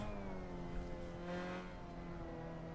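A Mazda MX-5 Cup ND race car engine in the Assetto Corsa racing game drones at a faint, steady high pitch, its tone sliding slightly as the revs shift, with no voices.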